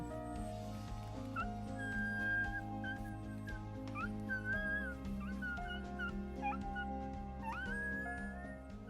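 A rescued dog whimpers, giving repeated high, thin whines and yips that waver in pitch over a steady low hum.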